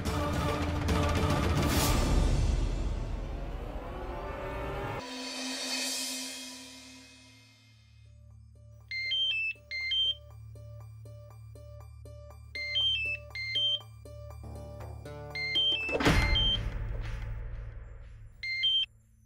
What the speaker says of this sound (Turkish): Telefonu açman kaç saat sürdü?